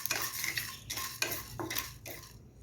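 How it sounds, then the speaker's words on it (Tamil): Cumin and black pepper dry roasting in a pan, stirred with a utensil in a series of quick scraping, rattling strokes, close and fairly soft, with no talking. "ஜீரகம், மிளகு எல்லாம் நல்லா வறுத்துக்கலாம்."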